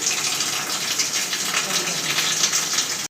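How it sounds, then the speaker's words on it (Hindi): Water gushes in a steady stream into a container in a home kitchen where flour is being soaked, a continuous loud splashing hiss that stops abruptly at the end. "ये मैंने इसमें पानी डाल दिया।"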